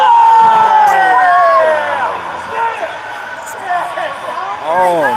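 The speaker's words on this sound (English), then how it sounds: "Crowd begins to rise in the background." A crowd at a Clippers preseason basketball watch party rises in noise, cheering and whooping while people talk nearby, building in waves toward the end.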